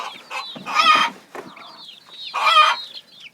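Young chickens being raised for 4-H cluck and chirp close to the microphone in several short bursts, with brief pauses between calls and no talking.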